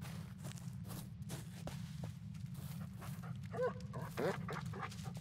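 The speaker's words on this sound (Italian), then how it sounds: "Questo è il cane." A dog in the horror video game Blair Witch, set in a forest, gives a few faint whimpers and short vocal sounds near the end, over a low steady ambient hum and soft rustling.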